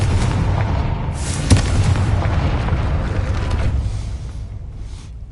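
A Confringo blasting spell explodes in Hogwarts Legacy as a loud, close boom with one sharp crack inside a rumbling roar that slowly dies away.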